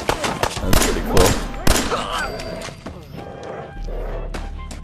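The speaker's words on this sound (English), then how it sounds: "Somebody's out there shooting the place up." Gunfire in the Fallout 4 VR video game, several sharp bursts of shots in the first two seconds, followed by quieter game ambience and a low rumbling hum.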